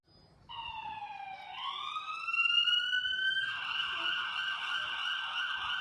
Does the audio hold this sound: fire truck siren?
yes